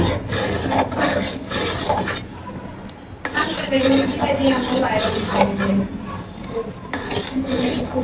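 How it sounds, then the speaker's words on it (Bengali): Nawabi semai being stirred in a pot, a spoon scraping and clinking against the metal in repeated strokes, close, with a person talking over it. "এখন আমি নাড়াচাড়া করবো।"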